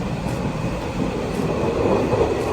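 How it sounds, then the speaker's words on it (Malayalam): Inside a moving train in Engelberg, Switzerland, a steady rolling rumble of wheels and carriage fills the cabin, with a faint rhythmic clatter and a gradual swell in loudness. No voices. "സ്വിറ്റ്സർലാൻഡിലെ എയിഞ്ചൽബർഗിലെ ട്രെയിനിലാണ്."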